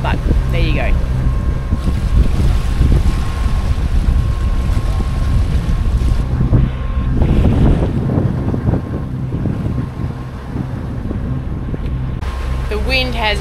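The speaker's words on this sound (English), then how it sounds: "The wind has just picked up." Strong wind roars across the microphone aboard a sailboat under way at sea, a loud, constant buffeting rush mixed with water and hull noise throughout.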